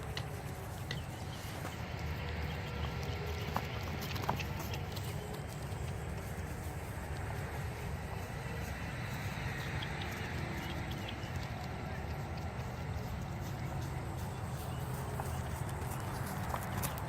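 Young horse's hooves clip-clop steadily on the ground, moderately close, over a constant outdoor background hum with no talking.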